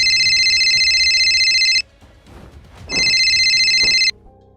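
A telephone rings loudly in two long electronic bursts separated by a short pause, set in a horror podcast story.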